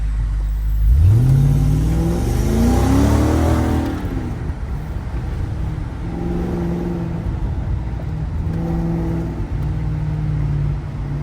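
A BMW X5 E70 V8 engine revs up sharply, rising in pitch, then settles into a steady drone with a couple of smaller revs, heard from inside the vehicle.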